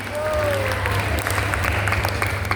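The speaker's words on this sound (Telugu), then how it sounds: "అందరూ గట్టిగా చప్పట్లు కొట్టండి." An audience in a classroom-style gathering claps steadily throughout, a dense continuous patter of applause with a faint tonal whistle early on.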